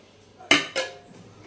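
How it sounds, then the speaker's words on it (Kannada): Soaked sago drops into a metal pot, giving two quick, close clanks of spoon and vessel in a row, followed by quiet. "ಇದನ್ನು ಇದರೊಳಗೆ ಹಾಕ್ತಾಯಿದ್ದೀನಿ ಸಾಬುದಾನ."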